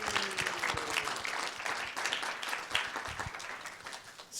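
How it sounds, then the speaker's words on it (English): Quiet round of applause from an audience for student teams at a student innovation showcase, scattered individual claps blending into a soft, fairly distant, sustained patter. "So please, a round of applause for all the student teams."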